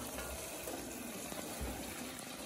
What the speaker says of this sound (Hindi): अब हम पानी को सारा ड्रेन कर रहे हैं